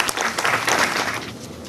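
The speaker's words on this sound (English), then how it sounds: "With a big round of applause" An audience at a homecoming event in Ghana applauds to welcome a speaker, a dense, steady burst of clapping from a crowd that tapers slightly toward the end.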